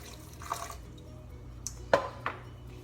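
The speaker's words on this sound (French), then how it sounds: "Il faut rajouter un petit peu d'eau." About 120 ml of water is added to a cooking mixture in a home kitchen: a few faint, brief splashes and drips in a quiet room, with no talk.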